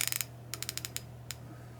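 A Carlyle or Icon ratchet switched to loosening clicks in quick close bursts: a rapid run of ticks, a pause, a second run of evenly spaced clicks, then one last click, all faint and alone.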